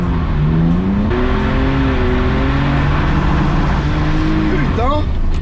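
A car drifts on a race circuit, its engine droning and revving loudly from inside the cabin, pitch rising and falling with a sharp rev climb near the end, while people talk over it.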